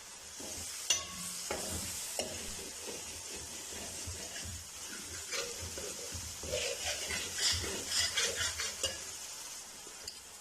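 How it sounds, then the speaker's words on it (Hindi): Ginger garlic paste sizzles and fries in a pan while a spoon stirs and scrapes intermittently, a close, moderately quiet crackle throughout. "एक मिनट के लिए अदरक लहसुन के पेस्ट को भूनेंगे अच्छी से"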